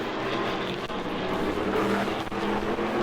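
E-Mod race cars roar down the back straightaway during a 30-lap race at New Smyrna, a loud sustained engine drone with layered motors close by and no pause.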